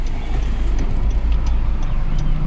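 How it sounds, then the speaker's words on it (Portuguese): An automatic Honda Civic EXR with a sunroof pulls away, its low engine rumble and road noise steady and close throughout, with no talking. "e a gente vai sair com o carro."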